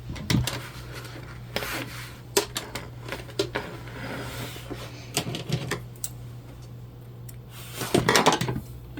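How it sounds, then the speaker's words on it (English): A domestic sewing machine stitches through thick bag fabric, its needle straining with irregular clacks and knocks over a steady low motor hum, loud and close, with sharper bursts near the end. "The sound of almost breaking a needle."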